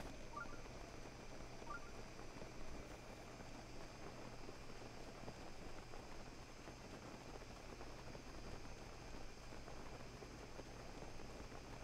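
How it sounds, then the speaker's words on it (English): Steady, soft rainfall in Zora's Domain in the video game Breath of the Wild patters continuously with a low background hum, no voices, evenly sustained throughout. "it's raining over here because it's Zora's domain."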